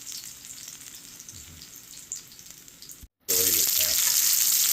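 Veal cutlets fry in a pan with a soft, steady sizzle that cuts out briefly, then returns as a much louder, brighter crackle.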